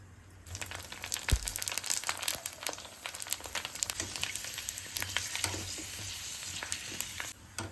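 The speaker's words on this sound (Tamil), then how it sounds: "எண்ணெய் காஞ்சிச்சு, பூரி போட்டுக்கலாம்" Store-bought puris fry in hot oil for homemade pani puri, a dense crackling sizzle with sharp pops and bubbling that carries steadily and close for nearly the whole stretch, with no voices.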